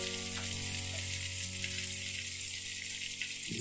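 Salmon belly frying in butter in a pan, a steady close sizzle and crackle with a faint low hum beneath and no speech.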